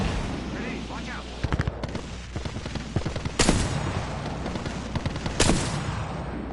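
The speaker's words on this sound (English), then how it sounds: "The enemies are shooting at me." Enemy gunfire in Apex Legends, a sharp crack near the start and two louder shots later, amid a busy battle mix of thuds and clatter with voices in the background.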